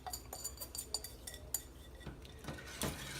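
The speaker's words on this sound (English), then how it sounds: "We're going to whisk that in." Whisk beating granulated and brown sugar into a brownie mixture in a bowl, quiet rapid clinks and taps of metal on the bowl in an uneven rhythm.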